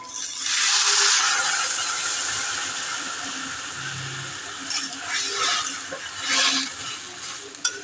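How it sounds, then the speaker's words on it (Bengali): Water poured into a cooking pot for a chickpea and potato curry, a steady rushing gush that swells early and then settles, followed by a few splashy bursts and hissing near the end, close by with no talking. "এবার দেখুন জল দিয়ে দিচ্ছি"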